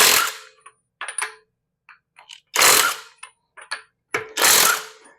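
A Takuoo torque impact gun loosening a car lug nut in auto stop mode: loud hammering bursts with short rattles between them, the tool stopping on its own after each run.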